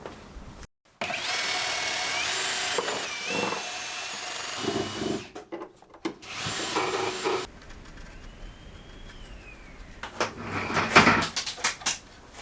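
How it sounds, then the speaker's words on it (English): A power drill whines in long loud runs, backing screws out of a Renault Master van floor during a DIY conversion, then breaks into shorter bursts with clunks and knocks toward the end. "taking all the screws out that we destroyed yesterday"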